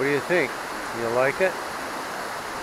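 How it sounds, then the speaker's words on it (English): A waterfall at Lake Quinault on the Olympic Peninsula gives a steady broadband rush of falling water, moderately near, while a person speaks briefly over it. "I like waterfalls."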